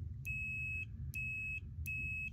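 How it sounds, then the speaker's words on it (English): Three evenly spaced, sustained electronic beeps from a multimeter in continuity mode, each about half a second long, sounding over a low background hum while testing a treadmill speed sensor. "I'm going to go to the setting on that where when I touch my 2 points it beeps."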